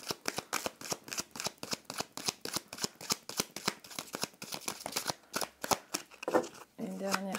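Tarot cards riffled and shuffled in a rapid run of crisp, close flicking snaps, followed by a few cards drawn and set down; a voice briefly speaks near the end.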